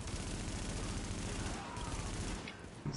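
Continuous rumbling gunfire and explosions fill a firefight in the shooter game The Division, a sniper rifle among the weapons, loud and sustained with a brief dip before resuming.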